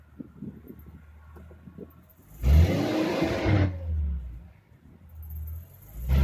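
Manual car engine pulling away on a hill start in first gear, a rising rev that swells loudly for a couple of seconds and then holds a steady drone, close inside the cabin, with faint low rumbling before it.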